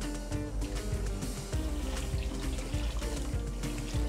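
Water pours and trickles into a container holding pickling vinegar for Japanese vegetable pickles, a quiet, uneven splashing and dribbling in close, irregular bursts, alone without voices.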